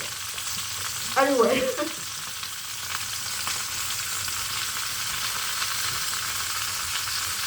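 Peppers fry in about a quarter cup of oil for a Calabrese peperonata, giving a steady, close hiss and crackle that runs throughout. A brief spoken word comes near the start.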